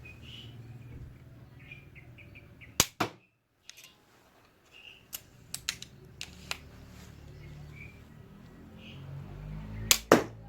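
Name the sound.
handmade wooden slingshot pistol being fired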